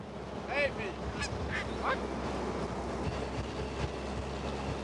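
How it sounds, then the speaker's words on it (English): Barnacle geese honking in scattered calls as the flock takes off, heard against a steady low rumble of engine or wind noise, the calls fairly distant and intermittent. "our flock of barnacled geese take off on their own"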